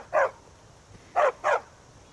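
A dog in a video game barks three times. One short bark comes first, then a quick pair after a pause. The barks are close and clear against a quiet background, with no talking.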